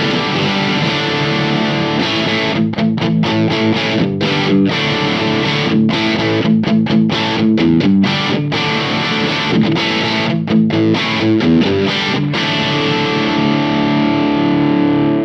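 Engl Retro Tube 100 tube amp with gain at halfway, driving an electric guitar through a steady run of distorted chords and riffs, loud and close with brief choppy stops between strums.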